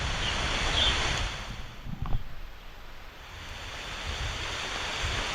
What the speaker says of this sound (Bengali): আর এই বৃষ্টির মুহূর্তে জঙ্গলের একটা আলাদা শব্দ হচ্ছে